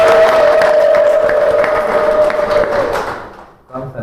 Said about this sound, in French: On peut applaudir pour nous tous.